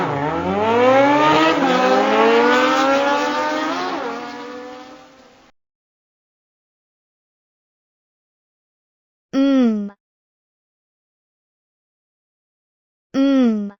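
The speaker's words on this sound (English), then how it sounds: "Motorcycle." Motorcycle engine sound effect from an educational alphabet game, a rising, revving tone that climbs and holds for several seconds, followed by two short, clipped bursts of the same engine sound after a silent gap.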